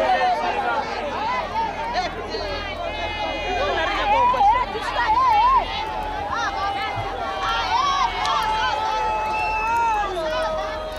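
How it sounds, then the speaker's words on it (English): An angry crowd of residents gathers after a vigilante attack, a continuous babble of raised voices and shouts from many people, moderately loud and unbroken throughout. "The crowd is angry and the mood is ugly."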